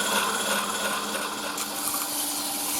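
A negative rake scraper makes finishing cuts inside a spalted hazel lidded pot spinning on a wood lathe, giving a steady, continuous scraping hiss with no pauses.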